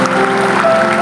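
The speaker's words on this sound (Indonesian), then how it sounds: "Boleh berikan tepuk tangan yang paling meriah." Congregation applauding in a church service, a short burst of dense, loud clapping throughout, with tonal hum or voices faintly underneath.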